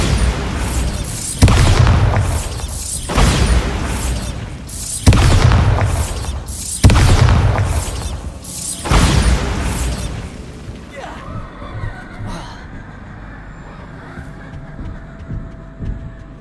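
Bombarda spell blasts in the video game Hogwarts Legacy: five loud, booming explosions at regular intervals, each with a broad crackling burst that rumbles and decays, followed by quieter ambient game sound.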